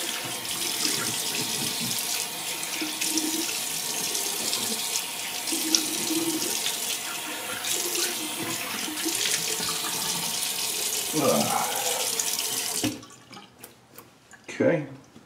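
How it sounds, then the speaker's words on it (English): A bathroom tap runs cold water for a rinse after shaving, a steady close splashing stream into a sink with a faint voice under it, then the flow shuts off and a few drips and small knocks follow. "let's get some cold rinse on here"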